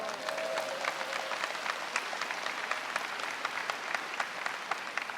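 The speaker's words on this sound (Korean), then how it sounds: "저는 이거는요, 하나님께 박수 쳐야 돼요." Steady, dense applause from a large audience at a Christian business conference lecture, sustained and fairly even throughout with no voices on top.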